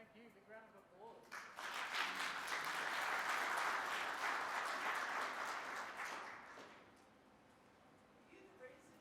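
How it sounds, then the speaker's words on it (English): Applause from an audience after a talk on connected vehicle security, safety and privacy, swelling in after brief speech, holding steady, then tapering off as talking resumes. "Big round of applause."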